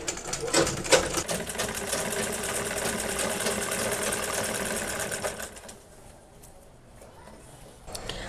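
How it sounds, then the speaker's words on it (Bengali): A sewing machine runs steadily while stitching salwar fabric, a close, continuous mechanical whir that stops after about five and a half seconds. "এখান থেকে আমি সেলাইটা করব।"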